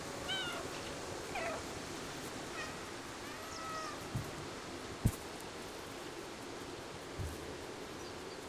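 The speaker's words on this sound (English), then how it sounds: "And meow a bunch, because why not? That's what cats do." Cat in Stray meowing several times over soft outdoor ambience, short high calls scattered across the stretch, with a few faint clicks and thumps in between.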